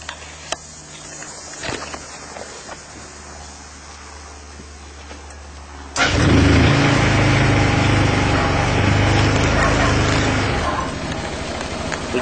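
A Lance Duke Touring 150 scooter engine cranks and catches, then settles into a loud, steady close idle with a buzzing drone that eases slightly toward the end.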